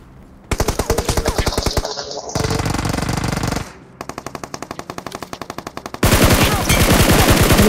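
Rapid automatic gunfire from the mobile battle royale game BGMI on the Livik map crackles in loud, sustained bursts, with brief pauses as different weapons fire.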